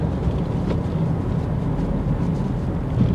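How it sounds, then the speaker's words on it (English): A used Nissan X-Trail engine running smoothly, with no chuffing, knocking or tappet noise, gives a steady low rumble throughout without voices. "The engine sounds sweet. It isn't chuffing or knocking or tappety."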